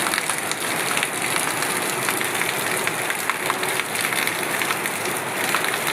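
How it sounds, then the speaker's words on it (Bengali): Heavy monsoon rain in the Andaman Islands falls as a dense, steady hiss that stays loud and even the whole time, with no voices over it. "প্রবল বর্ষণে লোকজনও বাইরে যেতে পারছে না"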